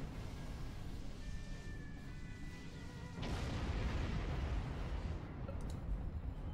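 In the video game Star Trek Online, a sudden heavy explosion boom breaks in midway and leaves a dense, roaring rumble, loud and sustained, over constant background noise.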